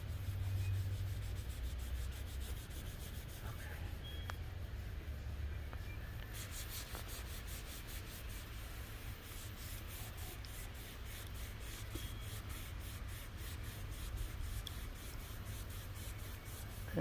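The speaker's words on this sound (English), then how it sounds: "You just seen the surface being prepped with alcohol." Rubbing alcohol is scrubbed across an EPDM pond liner surface with a steady, continuous, faint rubbing and swishing that runs throughout without talking.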